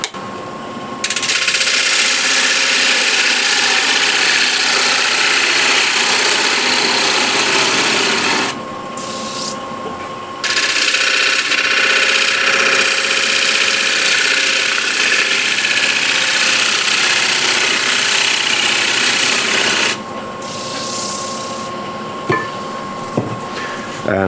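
A wooden bowl spins on a lathe while a tool undercuts its base, giving loud continuous scraping and rasping in long passes with short pauses, over a constant motor hum.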